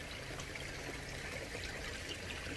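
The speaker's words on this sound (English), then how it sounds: "It's draining back down now." Koi pond water draining back down, a soft continuous trickle and gurgle of flowing water, steady and fairly quiet with no talk over it.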